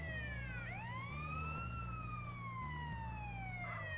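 Ambulance siren in the video game GTA San Andreas, a continuous wailing tone rising and falling over a steady engine drone, loud and close with no talking.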